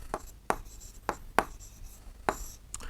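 Quiet handwriting of numbers for a fraction problem in a class 7 math lesson. About six short, separate strokes tap and scratch close by.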